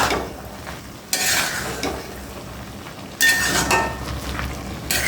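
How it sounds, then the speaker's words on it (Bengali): Water lilies (shapla) being tossed and stirred in a wok as they cook down and release their water, with scraping strokes in two bursts over a soft continuous sizzle, close and fairly loud. "এভাবে আমি উল্টিয়ে পাল্টিয়ে রান্না করে নেব।"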